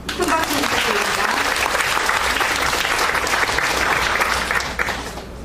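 An audience at a formal ceremony claps steadily and loudly, a dense sustained applause of many hands that carries on for several seconds before tapering off at the end.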